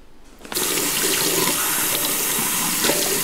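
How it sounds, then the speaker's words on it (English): Hands are washed under a running bathroom faucet, the water switching on after a half-second lull, then pouring into the sink in a steady, close, splashy hiss with no talking. "I'll wash my hands and dry them on each one of these"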